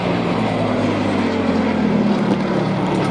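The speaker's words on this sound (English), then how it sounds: "25 aircraft altogether in the sky, and do that mass flyby while the Gladiator is arriving." Many vintage aircraft in a mass flyby at the Duxford Flying Legends air show, with a Gladiator arriving. Their engines make a steady, loud, continuous drone with a low propeller hum throughout.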